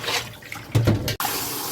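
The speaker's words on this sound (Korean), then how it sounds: "호박도 이렇게 똑같이 헹궈 주시면 됩니다" Running tap water splashing over vegetables such as zucchini being rinsed, a close rushing stream that rises, is abruptly cut for an instant by a knock, then resumes steadily, with no talk.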